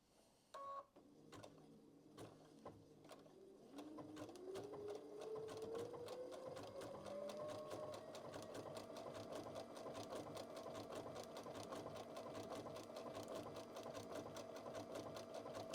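A sewing machine runs continuously, stitching quilt fabric around a heart shape on a sweatshirt. It starts after a few clicks, then settles into a steady, close, even whir that rises slightly in speed.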